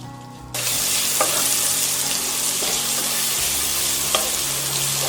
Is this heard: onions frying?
yes